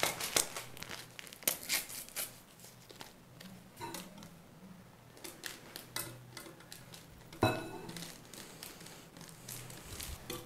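Batter of eggs, yogurt and baking powder being stirred in a bowl, an uneven run of scraping, clinking and crinkling strokes, close and fairly quiet, with brief pauses between bursts.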